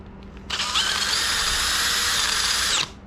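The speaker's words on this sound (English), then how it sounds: "think my drill is finally like getting tired" Power drill spinning a homemade flap sander against wood, a steady high whine starting abruptly, holding loud and even for about two seconds, then cutting off.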